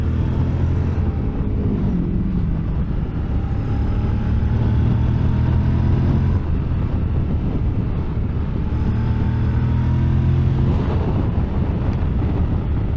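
Honda X-ADV 2023 motor scooter engine running steadily, a continuous loud drone with shifting harmonic tones as revs rise and fall, mixed with wind noise.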